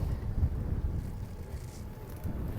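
Steady wind buffeting a microphone inside a car, a low rumbling roar with gusty swells throughout, no voices.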